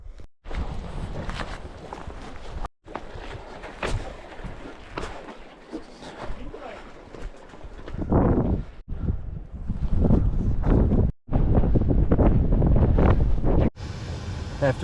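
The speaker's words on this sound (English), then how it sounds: "It's a windy place here, the Wind River Range." Mountain wind gusts through the Wind River Range backcountry, roaring and buffeting the microphone in loud, uneven surges that swell and drop throughout.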